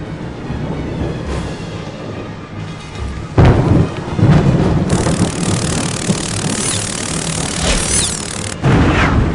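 Thunder rumbles through stormy, foul weather in the Harry Potter Prisoner of Azkaban video game. Loud booming claps break over a steady wash of heavy rain, with no voices.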